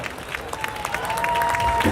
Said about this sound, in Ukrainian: Женя, дякую, браво! Оплески!